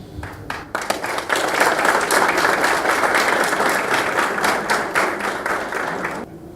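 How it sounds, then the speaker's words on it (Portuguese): Audience applause at a legal seminar, sustained clapping from a crowd that rises quickly, holds steady for several seconds, then stops abruptly. "eu acho que os aplausos significam a eleição do Pedro, né?"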